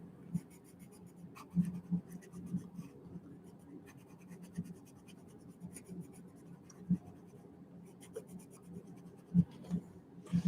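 Colored pencils scratch across thin coloring-book paper in quick, irregular strokes, close and fairly quiet, with faint murmurs between strokes.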